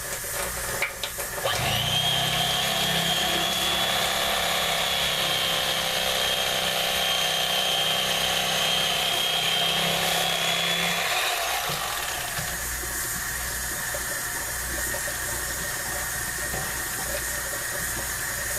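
An electric knife runs through a fish fillet for about ten seconds, a steady high motorized buzz that starts abruptly and then cuts off, leaving quieter handling sounds afterward.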